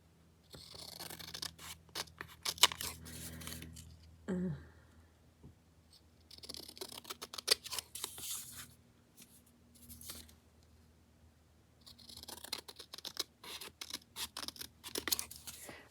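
Paper being trimmed with large scissors while making a handmade flip flop journal, several bursts of close crisp snipping and rustling separated by quieter pauses, no voices.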